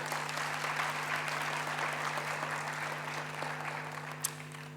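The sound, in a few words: audience applauding the 2024 graduates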